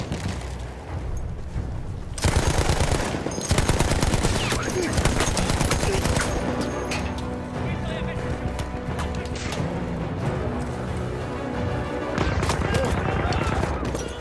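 Battlefield 1 combat gunfire, dense machine-gun bursts and rifle shots mixed with explosions rumbling throughout, loud and continuous with brief heavier volleys.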